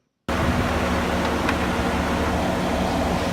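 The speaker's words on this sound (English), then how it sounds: "So the truck's running. It's like a diesel truck. That's why you hear that noise, right?" A diesel truck engine idles nearby, a steady low rumble with a constant droning hum that starts abruptly and holds level throughout.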